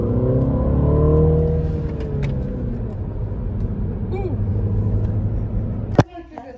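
A 2015 Mini Cooper S six-speed engine drones low and steady from inside the car, rising slightly in pitch at times, before a sharp thump near the end.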